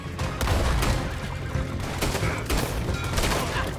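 Gunfire from the video game Red Dead Redemption 2: a dense, loud volley of overlapping shots and booming reports that rumbles continuously for a few seconds, with no talking.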